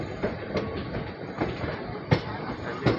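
Passenger train on the Bangalore to Mangalore line rumbling along the rails with periodic clickety-clack beats, heard from inside the carriage with faint voices in the background.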